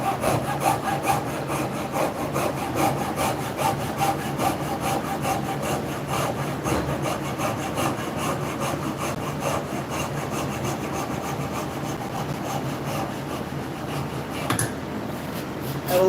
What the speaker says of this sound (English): This little junior hacksaw is currently my favorite for bamboo.